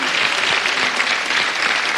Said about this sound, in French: on applaudit le gagnant de vendredi dernier